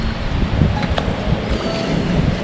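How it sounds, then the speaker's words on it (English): Strong wind blowing across a lake by a canoe campsite, a steady broadband rush and buffeting against the microphone, with no voices. "The wind has gotten quite a bit stronger even here."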